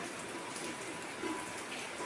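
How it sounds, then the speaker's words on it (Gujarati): Heavy rain pouring down outdoors, a steady broadband hiss of falling water with scattered drop impacts, continuous and fairly close, with no voices over it. "વરસાદ છે ધોમે ધોમ ચાલુ."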